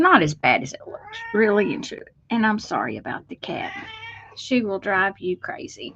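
A pet cat meows loudly and repeatedly at close range while someone talks during a card-stamping session, the cries overlapping and alternating with her speech.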